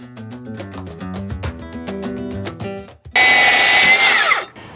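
A power tool whines loudly for about a second and a half while cutting a particle-board workbench top to length, preceded by a harmonic, stepped whirring.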